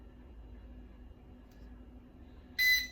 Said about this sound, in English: And then the timer goes off.